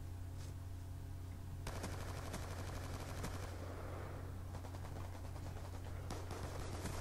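Bursts of automatic M27 rifle fire in Black Ops 2, rapid rattling volleys starting after a steady low hum, repeating in short strings over a constant game background.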